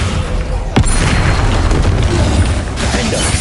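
Bombarda spell blast in Hogwarts Legacy: a heavy, close boom with a sharp crack at the start, then a thick rumbling roar that sustains to the end.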